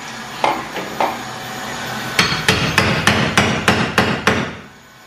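Hammer blows during a kitchen renovation: two isolated strikes, then a steady run of about nine loud, evenly spaced knocks close by, fading at the end.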